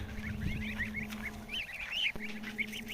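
A group of Mamut breed goslings peep and call in rapid, repeated high chirps, fairly close and continuous over a steady low hum.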